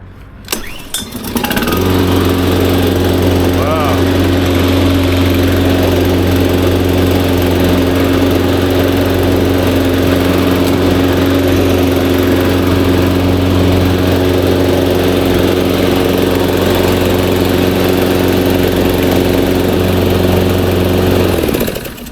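An AL-KO 521 lawn mower with a Loncin 166cc engine starts and runs steadily at close range for about twenty seconds, a loud, even drone with a strong low hum and no talking.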